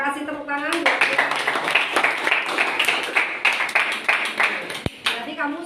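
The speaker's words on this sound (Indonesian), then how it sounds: "kasih tepuk tangan buat Glenn" Students in a classroom clap for a classmate named Glenn, a burst of quick, uneven hand claps lasting several seconds, framed by a teacher's voice speaking before and after.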